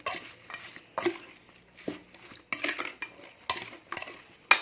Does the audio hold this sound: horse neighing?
no